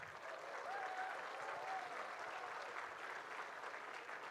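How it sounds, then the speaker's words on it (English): Distant, faint but steady applause from a large audience welcoming dignitaries at a management institute convocation ceremony, continuous clapping with a brief whistle-like tone early on. "Let's welcome them with a huge round of applause"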